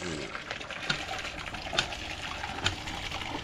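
Water gushing steadily from a jetmatic hand pump, a continuous moderately loud splashing rush with a few louder surges, while a voice talks over it.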